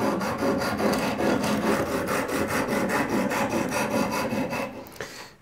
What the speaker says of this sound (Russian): Подсточим еще и потом, наверное, пойдем уже на понижение зерна.